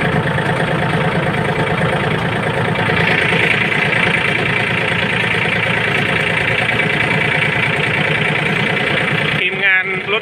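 A Yanmar 39 tractor engine idles steadily with a low, even rumble and rattling vibration, loud and close as if heard from the seat, continuing unbroken until a short disturbance near the end.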